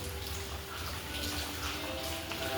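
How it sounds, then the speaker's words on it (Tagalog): Heavy monsoon rain and floodwater pour inside a home in the Philippines, making a steady, moderately loud rushing, splashing wash of water that runs unbroken throughout. "Grabe ang ulan. Hindi talaga tumigil. Baha na sa loob."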